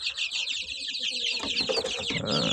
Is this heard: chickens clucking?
yes